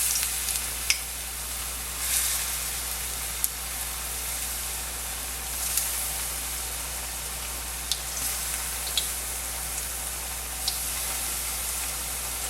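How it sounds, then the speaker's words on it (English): Slices of eggplant fry in hot oil in an uncrowded frying pan for a maqloubeh dish, giving a soft, continuous crackling sizzle with occasional sharper pops spread across the clip. "Make sure you don't crowd the frying pan and keep it sizzling."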